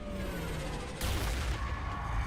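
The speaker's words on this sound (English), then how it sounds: "Big explosions." A loud, rumbling blast erupts midway, with dense crackling bursts and a heavy low roar that carries on, like big explosions in Mass Effect 3: Legendary Edition.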